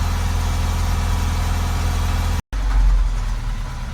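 Ashok Leyland BS6 truck diesel engine idling steadily while warming up, a close, loud low rumble throughout, broken by a brief cut before resuming heavier.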